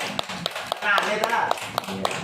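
An audience at an Islamic religious talk in Madiun claps in a quick, steady rhythm of sharp hand slaps, with voices talking over the clapping throughout.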